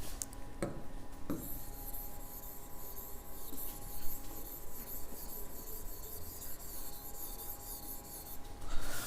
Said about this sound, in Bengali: এবার তাহলে আমার মেন বাকি রইল পিকচারটা আঁকা, পিকচারটা আঁকছি।